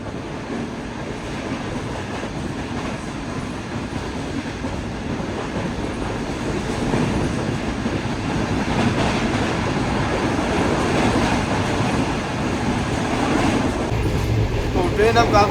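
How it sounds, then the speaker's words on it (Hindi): The Shah Hussain Express passenger train, a nonstop Karachi-to-Lahore service, rolls along the tracks at speed, its steady rumble and rhythmic clatter building slightly louder over time, heard from inside a carriage with voices faintly underneath. "तो ट्रेन अब काफ़ी अच्छी स्पीड में आगे चलेगी"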